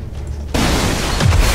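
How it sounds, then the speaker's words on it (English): An explosion in XCOM 2 bursts in abruptly after a quieter rumble, a loud sustained boom with crackling debris rolling on to the end, no talk. "Oh, okay, that's exploding"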